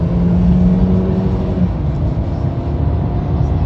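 A turbocharged car of about 185 horsepower, fitted with a new turbo, drives past with a loud, steady engine rumble, and its pitch shifts as it changes gear partway through.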